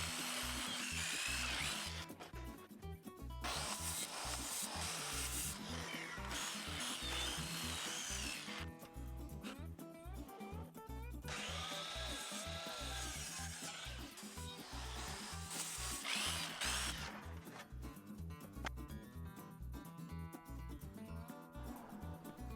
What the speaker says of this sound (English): I'm using the router again to cut my own groove on the inside edge of the square border